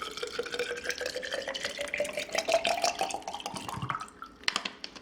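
Tap water pours steadily into a water bottle at home while fruit-infused water is made, the rising gurgling pitch showing the bottle filling up, with small clinks near the end.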